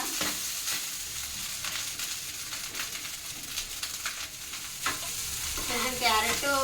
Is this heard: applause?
no